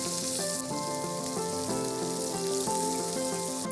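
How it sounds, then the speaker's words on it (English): Leftover warmed vegetables frying in a hot pan give a continuous bright sizzle, with a melodic tune playing clearly over it throughout. "There's a sizzle."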